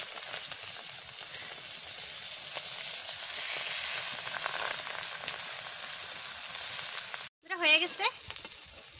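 Bangda fish head sizzling and frying steadily in a hot pan, a continuous crackling hiss that runs for several seconds before a brief break and a short spoken phrase.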